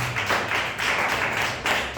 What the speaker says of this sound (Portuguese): Louva o Senhor com as tuas palmas